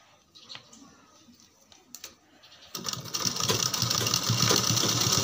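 A sewing machine stitches patiala pants, starting with a few faint clicks and quiet handling, then running steadily in a loud, continuous whirring rattle for the last half.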